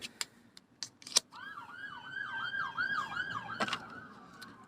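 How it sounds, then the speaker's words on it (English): An ambulance siren passes by, its wailing up-and-down tone rising and falling repeatedly at moderate distance, with a few clicks and knocks nearby and no talking. "And you heard that ambulance go by."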